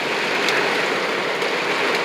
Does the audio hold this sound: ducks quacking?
no